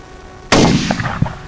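A single loud, close rifle shot fired at a groundhog during a hunt cracks out after a quiet moment and is followed by a short echoing tail and faint outdoor rustle.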